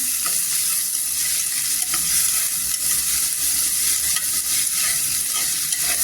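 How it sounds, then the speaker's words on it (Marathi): Chopped onions sautéing in oil, with a loud continuous sizzle and frequent stirring scrapes running evenly throughout, no talking. "इथे छान असं तेलावर परतून घ्यायचं. छान असा गोल्डन कलर करून घ्यायचा."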